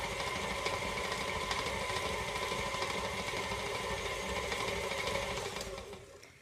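An electric mixer whirs steadily as it beats oat flour chocolate chip cookie dough, a continuous close motor drone that fades out at the end.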